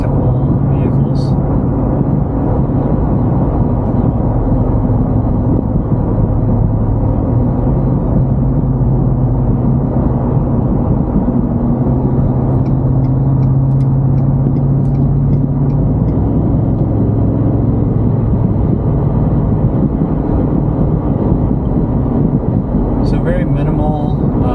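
Steady low engine drone and road rumble inside the cab of a 2018 Ford F-150 with the 5.0 Coyote V8 and a Flowmaster 70 series exhaust, cruising on the highway, with someone talking over the constant noise.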